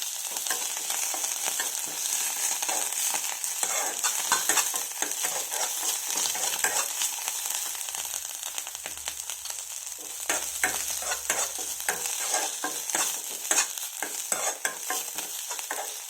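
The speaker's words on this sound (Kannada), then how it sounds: "ಬೇಗ ಬೇಯುತ್ತೆ ವಿಳೆದೆಲೆ ತುಂಬ ಹೊತ್ತೇನು ತೊಗೊಳೋದಿಲ್ಲ" Betel leaves fry and are stirred in a pan for a betel-leaf chutney, a steady sizzle with frequent scraping stir strokes throughout, no talking.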